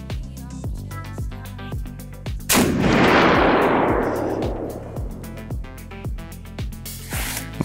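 A single rifle shot cracks loudly during a Bulletseeker chronograph test against Labradar and MagnetoSpeed, its blast decaying over a couple of seconds amid a background of rapid, regular ticking clicks.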